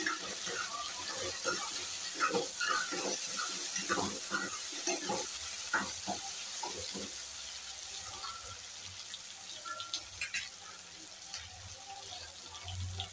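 Green chillies and soya mince sautéing in a pan, a soft, constant sizzle with a cluster of faint stirring clicks and taps early on that thins out later.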